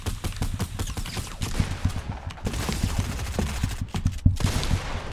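Repeated gunshots in a video game match, a dense series of sharp rapid shots and bursts at uneven intervals, fairly loud and continuous, with no talk over them.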